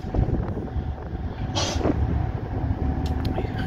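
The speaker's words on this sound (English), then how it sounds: "Well, here comes the road train." A freight road train on a railroad rumbles past outdoors with a steady low roar and clatter, wind buffeting the microphone and a brief hiss partway through.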